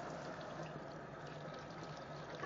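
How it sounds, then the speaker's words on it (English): Hands being rinsed under a running kitchen tap, a continuous close rush of water splashing steadily and evenly with no voices. "Let me just rinse my hands off really good."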